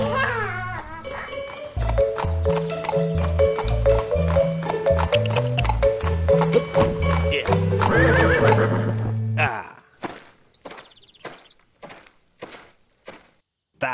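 Horse pulling a delman carriage in an Indonesian cartoon: a loud neigh rises over tinkling music, then hooves clip-clop at a steady pace as the music stops.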